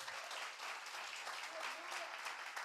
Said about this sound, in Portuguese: Aplaude o Senhor Jesus.